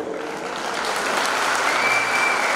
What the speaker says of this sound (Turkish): Seni ayakta alkışlıyorum.